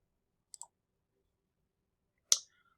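Two mouse clicks in a Canvas course tutorial: a faint paired click early on, then a louder, sharper single click about two seconds later, both isolated against silence.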